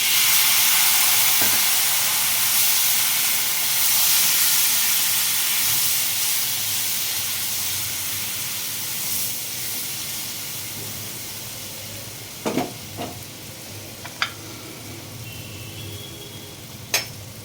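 Ground spice powder and cumin sizzle in a pan with a splash of water while okra with curd is being cooked. There is a steady loud hiss of steam that slowly fades, then a few sharp clinks near the end, with no talk.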